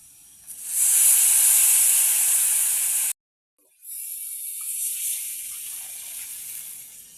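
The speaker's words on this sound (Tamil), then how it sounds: "இதோட புளிக்கரைசல் சேர்த்துக்கொள்ளணும்" Tamarind water poured into a hissing hot pan of vegetarian curry, a loud bright sizzle that cuts off abruptly, then a quieter steady hiss and bubbling resume.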